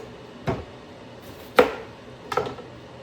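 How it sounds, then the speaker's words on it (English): A knife cuts a red onion into wedges on a board, three separate crisp chops spaced about a second apart, close and fairly loud. "if you're wondering why I'm wedging the red onion instead of slicing the red onion"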